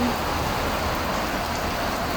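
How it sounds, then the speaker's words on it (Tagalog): Steady, dense rain pours down in the UAE, a constant hiss of drops hitting surfaces nearby with no letup. "Ang lakas ng ulan."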